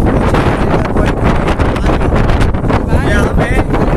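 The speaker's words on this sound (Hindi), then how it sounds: "यहाँ पे हवा चल रही है" Strong wind buffets the microphone on a hilltop during a motorbike trip from Mumbai to Lonavala, a loud continuous roar with gusty surges throughout.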